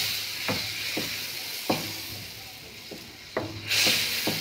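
Spoon scraping and stirring a blended mixture in a frying pan while fish cooks, with a steady sizzle underneath and repeated soft scrapes at an uneven pace, close by, ending in a brief louder hiss.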